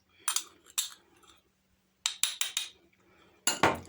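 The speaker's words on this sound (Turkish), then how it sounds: "Güzelce karıştırıyorum. Vanilya özüyle beraber kahveyi." Ground coffee and vanilla extract being stirred together on a plate: close, crisp scrapes and light clinks come in short clusters, separated by near-silent pauses.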